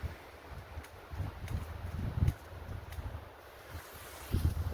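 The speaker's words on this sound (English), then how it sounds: "Now there's a bit of wind this evening." Wind blowing outdoors on an evening at a night-march event, a low steady rumble with gusty swells and microphone buffeting, moderately loud and alone with no talk.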